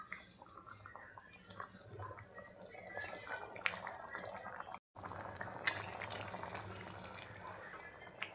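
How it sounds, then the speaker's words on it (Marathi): Water for a barnyard millet upma bubbling at a boil in a pot, a soft continuous burble with small clinks and scrapes, close but quiet, briefly cutting out midway. "छान अशी उकळी आली"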